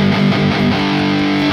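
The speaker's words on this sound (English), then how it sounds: "The dirt pedal, or the distortion pedal, adds another layer of distortion" An electric guitar runs through a distortion pedal in the Neural DSP Archetype Gojira plugin, giving a loud, saturated, sustained chord with thick harmonics that shifts pitch briefly and then rings on.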